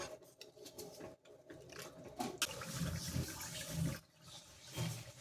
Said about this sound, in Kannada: 1 ಲೋಟ ನೀರು ಆ್ಯಡ್ ಮಾಡ್ತಾ ಇದ್ದೀನಿ